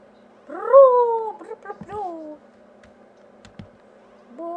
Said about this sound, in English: Oh, now the cat is in my, Gary's in my face.